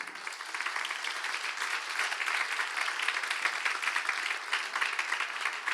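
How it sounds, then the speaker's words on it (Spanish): Steady applause from a crowd, a dense patter of many hands clapping continuously without a break. "vamos a darle un aplauso a San Mateo"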